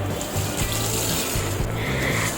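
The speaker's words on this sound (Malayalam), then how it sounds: "നമുക്കിനി ഇത് വെള്ളം ഒഴിച്ച് കഴുകാം" Water poured over a rusty iron pan during cleaning, a continuous close splashing trickle that runs steadily throughout with no talking.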